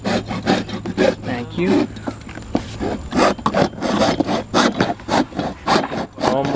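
A blade saws through thin, cheap plastic on a car bumper in quick, rhythmic back-and-forth strokes, close and fairly loud, with brief talk.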